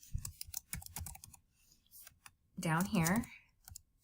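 Rapid, irregular keystrokes on a computer keyboard clatter close up for a couple of seconds while someone types a post in an online board, then a person speaks briefly before a few quieter taps.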